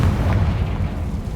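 Confringo fire spell in Hogwarts Legacy exploding, a loud, dense low boom that fills the whole moment with rumbling blast energy and no talk.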